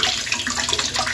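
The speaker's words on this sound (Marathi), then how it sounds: "आता अद्रक आधी धुवून घेते." Ginger being rinsed under a running kitchen tap, a steady close splashing hiss of water for about a second.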